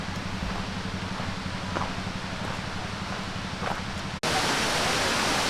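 Trahlyta Falls, a waterfall, gives a steady broadband rush of falling water that fills the whole clip, with a brief cut before it continues louder and closer.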